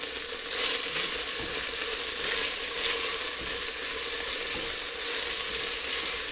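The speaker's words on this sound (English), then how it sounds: "So if you flip them over, might get a little bit of grease popping and stuff like that." Steak fries in hot oil in a high-sided pan, a steady dense sizzle with grease crackling and popping throughout, close and even for the whole stretch.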